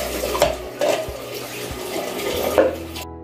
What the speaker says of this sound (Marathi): हवं तेवढं पातळ थोडं पाणी घालायचं।